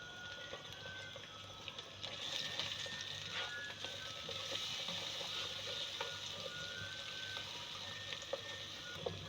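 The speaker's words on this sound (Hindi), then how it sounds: "ये मसाला भुनेगा जब तक हम भिंडियाँ तैयार कर लेंगे" Raw onion masala fries in a pan for stuffed achari okra, giving a soft, steady sizzle and crackle close by, with no talking.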